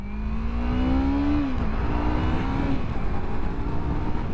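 A 2024 Yamaha MT-03 motorcycle engine runs steadily and loud throughout, its tone rising as it revs up, then dropping back and holding an even drone, with no talking.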